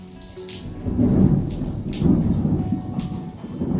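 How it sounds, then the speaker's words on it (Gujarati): A heavy rain shower with thunder, dense close rainfall hammering surfaces while deep rumbles roll through in repeated swells, loud and with no voices. "વરસાદ તો આવી ગયો."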